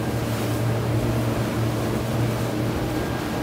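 Three Mercury Verado outboard motors on a Phenom 34 motor boat hum steadily at cruising speed, a continuous low drone blended with rushing water and wind, loud and unbroken.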